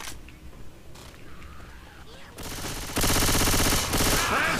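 Friendly gunfire rattles in Left 4 Dead 2, rapid automatic bursts starting faint and growing into a loud, dense stream of shots near the end, with voices calling out underneath.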